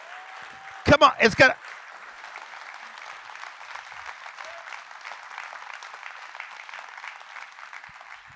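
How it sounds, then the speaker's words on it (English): Audience at a motivational talk for insurance agents applauds in a steady, dense wash of clapping that runs throughout, with a brief loud burst of someone speaking near the start. "Come on, clap your hands if you believe that."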